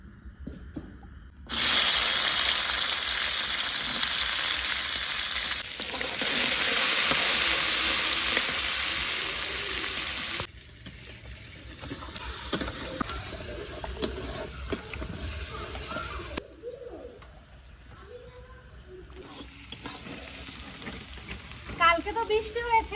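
Sliced onions for birista fry in white oil with a bright, hissing sizzle that comes in long loud stretches, broken by quieter gaps and softer clattering stirs.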